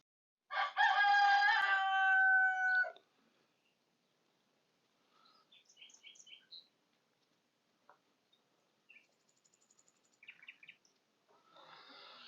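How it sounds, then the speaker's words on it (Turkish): A rooster crows loudly once near the start, followed by faint, scattered bird chirps and calls in a quiet background. "böyle kuş cıvıltılarının arasında olmak, sabah böyle bülbüllerle, kuş sesleriyle uyanmak harika bir duygu"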